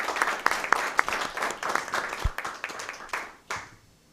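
Audience applause at a school board meeting, a dense burst of many hands clapping that rises quickly and then thins out toward the end, with no talking over it.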